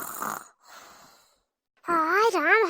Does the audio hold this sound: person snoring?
yes